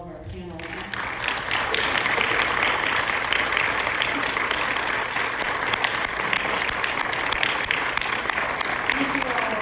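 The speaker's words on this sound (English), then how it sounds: "give a round of applause for all of our panelists" Sustained audience applause for panelists at an LGBTQ+ dialogue event in Cincinnati, dense, steady clapping filling the room for nearly ten seconds after a brief spoken lead-in.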